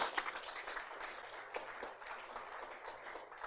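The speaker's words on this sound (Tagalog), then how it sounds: "Pumalakpak ng malakas sa Panginoon" A church congregation claps loudly and continuously, a thick, somewhat distant patter of many hands that holds steady throughout, with no one speaking.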